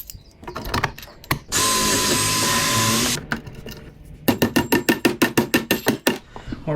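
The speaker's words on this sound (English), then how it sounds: "now we drill the second and the third holes" Power drill boring holes into a boat transom during a Pond Prowler 10 Flex Fix install: one sustained whine of about two seconds, then a run of quick rhythmic drill bursts, with handling noise between.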